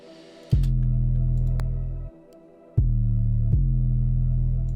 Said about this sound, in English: I added this 808